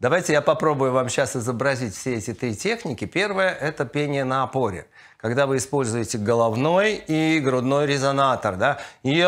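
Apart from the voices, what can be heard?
No distinct noise like a dog, phone or traffic.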